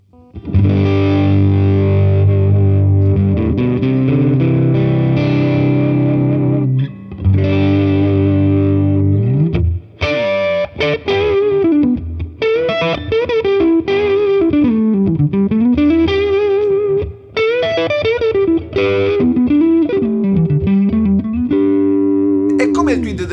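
Electric guitar played through an Origin Effects Deluxe55 pedal, moving from sustained clean-to-crunch chords into heavily distorted riffs and bends, loud and continuous with no talking.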